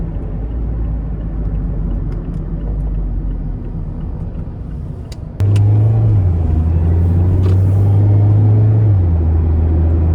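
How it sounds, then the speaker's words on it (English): Road noise inside a 2019 Mazda MX-5 Miata Sport soft top roadster while driving, a steady low rumble that grows louder partway through as the engine note rises and holds, with no talking. "Now it's a soft top roadster, so it's relatively loud in here,"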